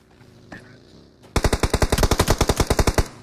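MG3 machine gun firing in a video game, a fast, loud burst of about a dozen and a half evenly spaced shots after a brief quiet lead-in with faint sounds.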